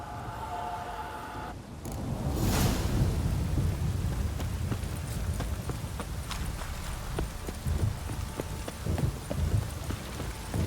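In The Witcher 3: Wild Hunt, horse hooves clip-clop in a steady walking rhythm, close and clear, under rain and rumbling thunder after a sharp burst near the start.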